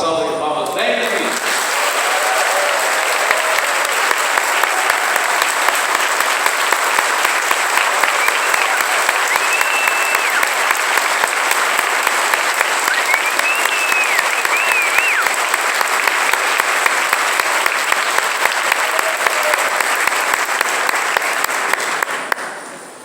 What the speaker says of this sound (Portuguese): acolhemos o nosso novo pároco com uma salva de palmas